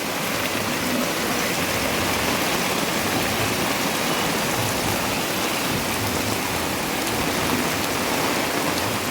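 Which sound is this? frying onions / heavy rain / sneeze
heavy rain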